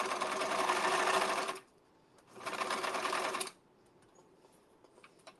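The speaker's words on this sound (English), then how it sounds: "Whenever you get to a corner where you need to sew something, you leave the needle in." Close sewing machine stitching in two bursts, about one and a half seconds each, separated by a quiet pause, then silence with a few faint clicks.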